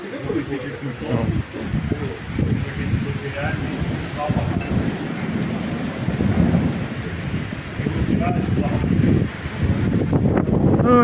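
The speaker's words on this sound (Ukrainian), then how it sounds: "От Хто мог подумати, що в Малині піде дощ?" Heavy rain pours steadily in Malyn, Ukraine, with thunder rolling through the downpour; the loud, dense roar continues throughout while people talk over it.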